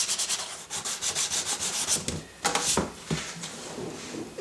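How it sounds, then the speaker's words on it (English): Sandpaper rubbing over a seam to prep it for paint, a rapid series of rhythmic scratchy strokes, close and steady, then a few longer heavier passes. "I'm just going to sand over these areas just a little bit, just to try and show where the seam is."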